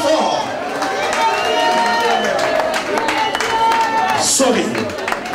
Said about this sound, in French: Je demande un tonnerre d'applaudissements pour accueillir JTT Moulopoué